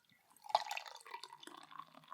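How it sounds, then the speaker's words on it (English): National Anthem AF stout poured from a can into an AF Beer Club glass, a soft trickling, splashing pour that starts with a small plop and runs on steadily and quietly, with no one speaking. "into the AF Beer Club glass, pours"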